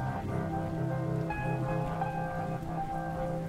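Heavy rain falls steadily as a dense, continuous wash, moderately quiet and even throughout. The scene is a rain-soaked night highway in a horror story.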